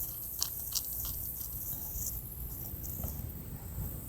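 ZIP tape on hot soffit sheathing crunches faintly when pushed, a soft scattered crackling and ticking over a steady outdoor hiss, close and quiet, with no talking.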